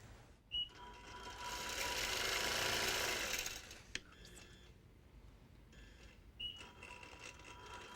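Sewing machine stitching a quilt with thick contrasting thread, a steady whirring run of about three seconds that stops with a click, followed by quieter handling and faint talk nearby.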